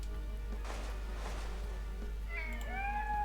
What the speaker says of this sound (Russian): Так, опять кошки, кошки.